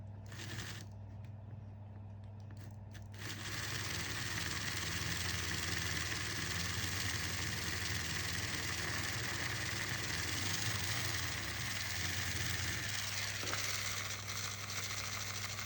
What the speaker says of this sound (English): nice but tired little motor